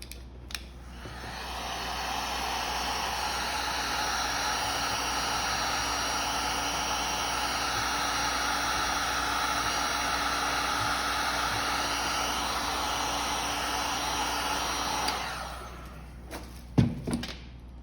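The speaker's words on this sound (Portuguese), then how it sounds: "Ok, então agora nós vamos secar novamente" A hair dryer blows on a pearl-decorated craft piece, a steady, loud whooshing hum that runs unbroken for about fifteen seconds before clicking off, followed by a few knocks and thumps.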